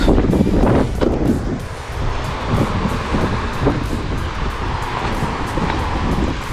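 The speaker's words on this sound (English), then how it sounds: "Oh, windy." Strong gusty wind on Bonaire buffets the microphone in loud, continuous low rumbles, with a broad airy roar underneath and no voices.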